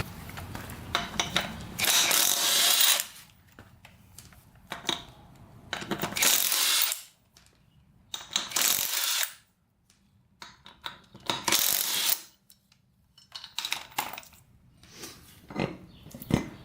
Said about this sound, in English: So let's get this wheel off of here.